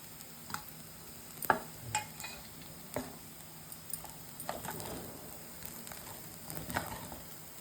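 A spoon scrapes and taps in a pan as aval upma (flattened rice) is mixed with coriander, giving soft, irregular clicks and stirring scrapes that stay faint against a quiet kitchen background.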